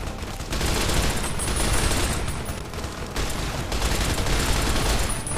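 Sustained, dense light-machine-gun fire from Fallout: New Vegas rattles loud and close, an unbroken stream of rapid shots with a short dip midway.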